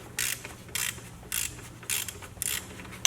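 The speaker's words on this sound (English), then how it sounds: "To remove the belt, I will loosen another 12mm bolt." A ratchet wrench clicks in five short, evenly spaced bursts, close and crisp, as a 12mm bolt is loosened on a Subaru timing belt assembly.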